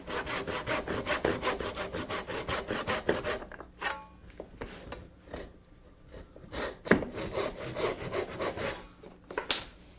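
Hand saw cutting down a tenon cheek in wood, fast steady rasping strokes at first, then slower, sparser strokes with brief pauses, close and alone with no talk.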